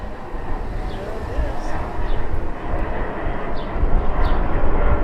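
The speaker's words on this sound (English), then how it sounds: "You can hear the jet going over right now." A low jet engine roar rumbles steadily overhead near Oak Harbor on Whidbey Island, Washington, slowly swelling in loudness, with faint distant bird chirps scattered above it.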